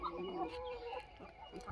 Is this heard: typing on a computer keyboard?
no